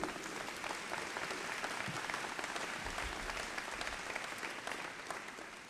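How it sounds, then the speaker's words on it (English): An audience at an Opening Day event applauds for several seconds, a dense, even patter of many hands clapping at moderate distance that tapers slightly toward the end. "So you all deserve a round of applause for that."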